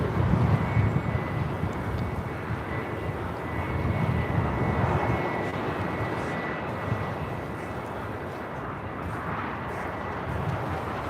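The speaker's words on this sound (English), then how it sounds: "Here we have Delta 785 coming in from Minneapolis on an A321." A Delta Airbus A321 arriving at LAX on a flight from Minneapolis makes a steady, loud broadband jet roar that holds for the whole stretch, swelling slightly and then easing, with no talk over it.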